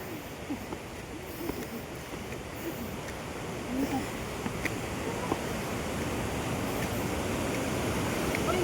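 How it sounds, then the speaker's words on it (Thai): Loud, steady roar of a large waterfall at Wang Muang falls in Thailand, a dense continuous wash of rushing water heard up close with no break across the whole stretch. "ตอนนี้ก็จะมีเสียงน้ำตกดังมากครับ เป็นน้ำตกขนาดใหญ่นะครับ"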